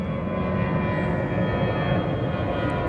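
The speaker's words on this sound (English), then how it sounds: "Planes overhead." Airplanes flying overhead make a steady, loud, broad engine roar that holds evenly throughout, with no speech over it.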